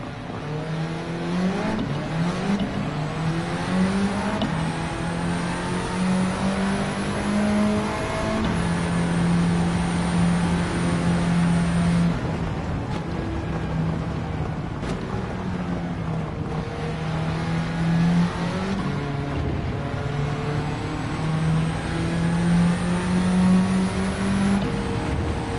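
A K20-swapped race car in Gran Turismo 7 drones and revs continuously, its engine pitch rising and dipping through gear changes over a long stretch with no talking.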